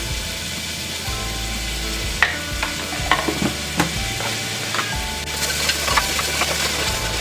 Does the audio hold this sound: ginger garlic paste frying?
yes